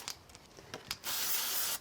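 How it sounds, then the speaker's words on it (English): A steady hissing spray from an aerosol can of spray glue, close by, lasting under a second after some soft handling noises. "I'll just use a little bit of spray glue on it."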